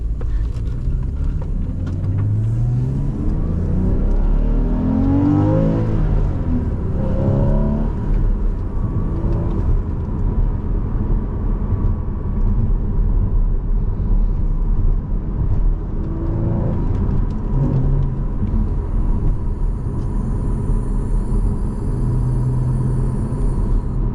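A 2016 Porsche Cayman with a manual gearbox, flat-six engine and Fabspeed exhaust accelerates from inside the cabin, a steady loud engine drone and rumble rising and falling in pitch through gear changes, with no talk.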